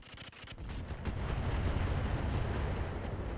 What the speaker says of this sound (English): continuing to drop artillery fire on their Panther